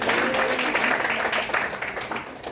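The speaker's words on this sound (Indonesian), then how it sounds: "Tepuk tangan dong." Audience applause at a talk on children's rights in education, broad dense clapping with some voices mixed in, steady for a couple of seconds and then tapering slightly.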